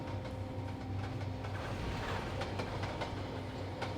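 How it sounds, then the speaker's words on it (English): A video game train in Trainz 12 rumbles steadily as it stops, with a rhythmic clatter of wheels and a low mechanical hum, moderately loud with no voices. "I'm just gonna stop the train here"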